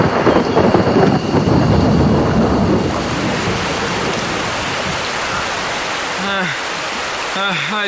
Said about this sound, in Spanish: ha estado lloviendo mucho durante las últimas 4 horas